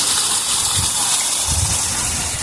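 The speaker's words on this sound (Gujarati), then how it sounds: "ફૂલ વરસાદ ચાલુ છે." Heavy morning rain pours down in Gujarat, making a dense, steady hiss with a gushing rush of water running close by and no voices.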